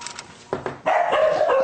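Two dogs bark and yip excitedly at close range ahead of a morning walk, a few short sharp barks building into an eager burst of overlapping yelps and whines.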